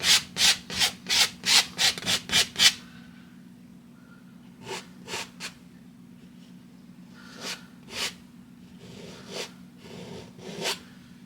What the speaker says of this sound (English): Getting that mountain scrape going today.